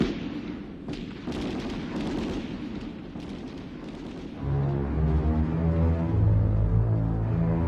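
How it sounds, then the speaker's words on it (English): Dense, rumbling bursts of rapid gunfire fill the scene, with heavier booming reports building toward the end, loud and continuous. "decimated these terrorists with automatic gunfire"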